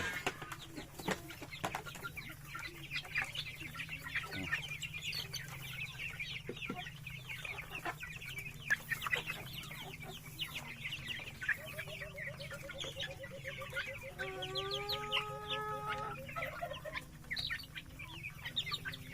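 Native Darag chickens cluck and call steadily on a rural farm, with softer bird chirps scattered through and a longer run of clucking near the end, all moderately close.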